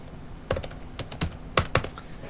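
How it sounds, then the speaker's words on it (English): Keys on a computer keyboard are tapped in a few short bursts of typing, crisp close clicks separated by brief pauses, with no voices. "just simply go to the Start menu and just type in Desktop App."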